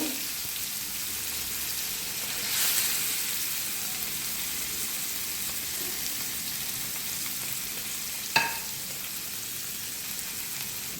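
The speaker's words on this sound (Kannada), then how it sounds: "ಈ ಥರ ಫ್ರೈ ಆಗ್ತಾ ಇರುವಾಗ ಈಗ ಮೀಡಿಯಮ್ ಫ್ಲೇಮಲ್ಲಿ ಬೇಕಂದರೆ ಇಟ್ಕೊಳ್ಳಿ" White pomfret shallow-frying in a pan over a medium flame, a steady close sizzle with a brief louder crackle and a sharp click later on.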